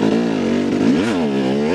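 Dirt bike fitted with a Rekluse auto clutch pulling hard out of a tight berm, its engine note rising loud and close, dipping briefly, then climbing again.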